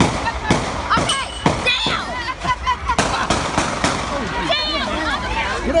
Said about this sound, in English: gunfire erupted in downtown Mobile